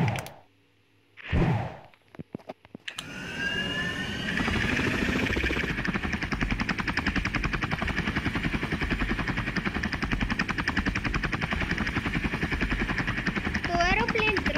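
Helicopter rotor and engine drone from a police officer simulator video game, starting after a few seconds of quiet and then holding a steady loud, dense roar with a throbbing rotor pulse to the end.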